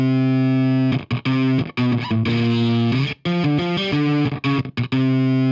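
Guitar loop played back through a distortion plugin, a loud, fuzzy, saturated riff of chopped chords and notes with short gaps between phrases, heard alone without talk.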